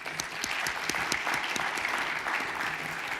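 An audience at a mathematics lecture gives the lecturer a steady round of applause, even and moderately distant, without a break.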